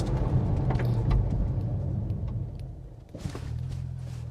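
A 2022 Infiniti Q60 Red Sport I-Line with a 400 hp engine braking hard while reversing, a loud rumbling drive that fades into a brief lull, then a rough low roar picks back up as the car stops.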